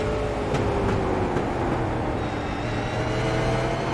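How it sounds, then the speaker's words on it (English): A limited super late model race car engine roars at a short oval track as the driver works the throttle, a loud continuous engine note with rising and falling pitch through the laps and no talking. "You can listen to how they work the throttle"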